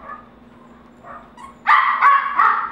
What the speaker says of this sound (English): miniature Australian Labradoodles